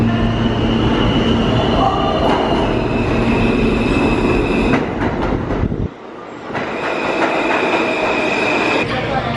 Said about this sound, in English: we're going to catch the subway from 57th down to 14th